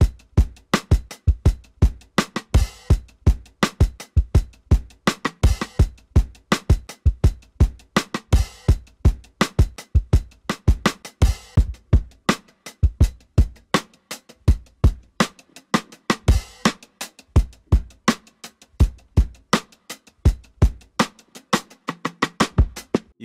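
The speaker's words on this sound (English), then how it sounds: "What they used to do was take the drum break and chop it up," A classic drum break chopped into slices and rearranged into a new hip-hop beat, with crisp kicks, snares and cymbal hits in a steady, punchy rhythm that runs without any talking.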